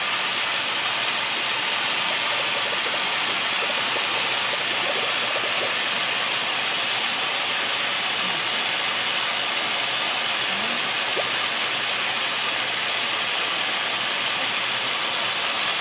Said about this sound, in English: I'm going to turn on the suction.